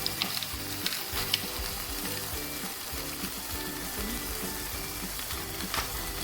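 Egg frying with minced beef and chili powder in a pan, a dense continuous crackling sizzle, close and steady, with a few brief clinks and no talking.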